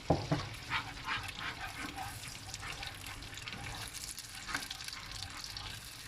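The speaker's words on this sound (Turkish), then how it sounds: "Salçanın kokusu çıkana kadar kavuralım azıcık." Tomato paste sautéing in a mix of butter and vegetable oil gives a steady, soft sizzle with faint crackles and the occasional small clink or scrape of a spoon.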